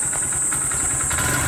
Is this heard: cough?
no